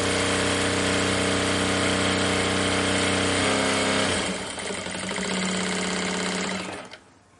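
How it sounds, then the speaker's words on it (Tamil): Power sewing machine fitted with a gathering presser foot, stitching continuously with a loud, steady mechanical whir that shifts pitch partway through and then stops near the end. "இந்த கேதரிங் ப்ரெஷர் ஃபுட்ல கேதரிங் தையல் மட்டும்தான் தைக்க முடியும்."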